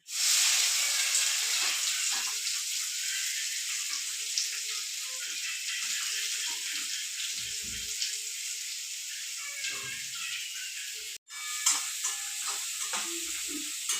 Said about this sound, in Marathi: तेल गरम करून घेतले जिरे टाकले कढीपत्ता टाकून द्यायचा